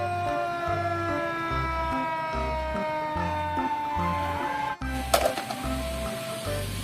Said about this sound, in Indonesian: ini damkar, mobil pemadam kebakaran.